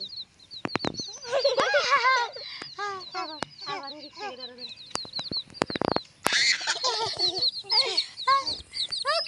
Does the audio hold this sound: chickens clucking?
yes